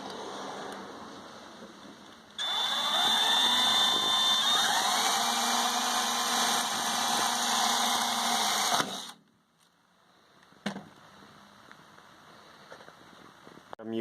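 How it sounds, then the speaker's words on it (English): A power drill bores pilot holes for a 12-volt power outlet on a Ford 8N farm tractor. It gives one sustained, fairly loud whine for about six seconds and then stops abruptly, followed by a brief second burst. "the next step is to mark the holes and drill some pilot holes"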